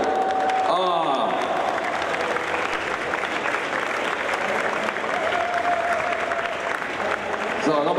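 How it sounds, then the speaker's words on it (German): A large audience applauds for a group at an event, sustained loud clapping with crowd noise and some cheering throughout, while a voice carries over it. "nochmal einen großen Applaus hier für alle in der Gruppe D"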